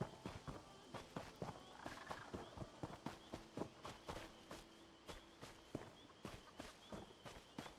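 Horse hooves beat in a quick, even rhythm in The Elder Scrolls Online, a steady clopping patter that runs the whole time at moderate volume.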